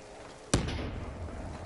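A single grenade blast in a video game: one sharp, sudden bang about half a second in, followed by a short rumbling tail over a quiet background.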